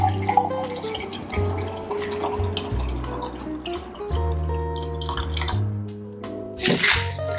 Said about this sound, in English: we're going to pour it into our cup here,